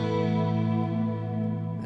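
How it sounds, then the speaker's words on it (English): A sustained synth tone passes through UVI Sparkverb reverb with the width turned down, a dense, narrow reverb wash holding steady for under two seconds before fading off, with no talking. "that reverb now sounds very, very central"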